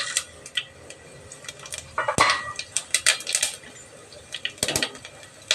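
Whole spices (fennel seeds, cloves, peppercorns, cinnamon sticks, cardamom pods and bay leaves) tumble into a pot for vegetable biryani, a scatter of small sharp clinks and taps, louder in a few clustered bursts, with no talking.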